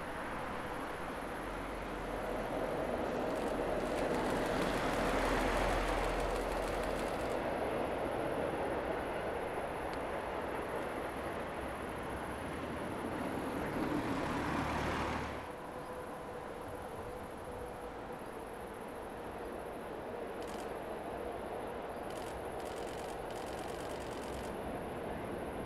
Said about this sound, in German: gut 10 Minuten später kam dann 110-262 mit einem Regionalzug hinterhergefahren